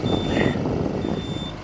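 Warning beeper of a Volvo EC160 excavator sounding on low hydraulic fluid level, two loud steady electronic tones close by over a rumbling idling engine.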